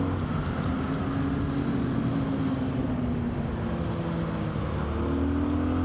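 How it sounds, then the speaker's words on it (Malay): Road traffic and engine drone surround a motorcycle ride toward Kuala Selangor, a constant rushing roar mixed with wind buffeting and slowly shifting engine tones that pass by in the distance. "Trafik."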